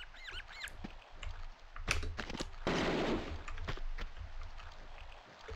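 Quick bursts of gunfire crack out amid faint sound effects in Tomb Raider 2, a few separate shots followed by a denser rattling volley, moderately loud.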